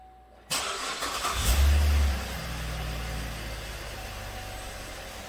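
A 2013 Cadillac SRX engine, near and steady, turns over with a loud low rumble that settles into an even idle, running with the AC switched on while the compressor clutch fails to engage.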